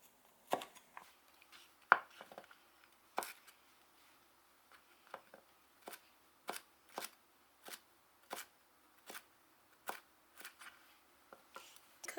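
A knife chops green bell pepper and red chili on a cutting board, making crisp, fairly even taps. The taps come one at a time in a quiet, close setting.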